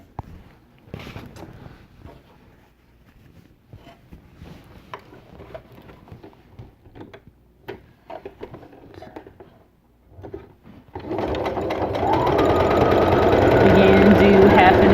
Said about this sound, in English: now it's time to sew the other edge with the red